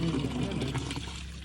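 Water from a deep well runs in a steady, close splashing trickle, with people talking over it.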